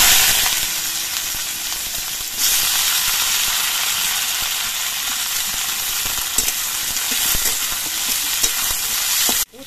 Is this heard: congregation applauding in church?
no